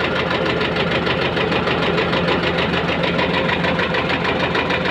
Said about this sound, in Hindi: बस ऐसे ही पहला गियर डाल के लो वाला ऐसे स्टार्ट कर लिया सीधा इसको।